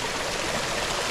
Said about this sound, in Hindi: ये पानी का प्रेशर अंदर जा रहा है।